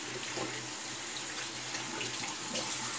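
Water runs steadily from a sink tap for rinsing during a wet shave with a RazoRock V2 Hawk safety razor, a continuous close splashing hiss with a low hum beneath.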